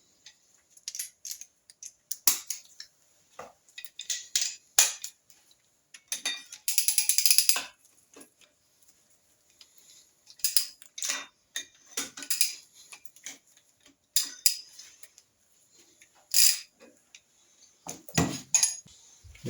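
A ratchet wrench loosens the cylinder head nuts on a Norton Commando engine during a rebuild, giving off bursts of quick close clicking with pauses and some metallic clinks between them.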